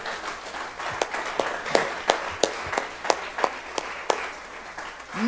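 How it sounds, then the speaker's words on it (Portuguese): A church congregation claps in praise, with distinct loud hand claps in a loose, uneven rhythm standing out over a quieter background. "aplauda o Senhor"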